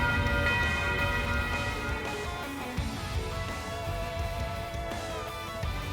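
The Nocturne Bell from the video game Trails of Cold Steel IV rings out with rich, sustained metallic overtones, a loud resonant toll that fills the scene and lingers throughout against dense background sound.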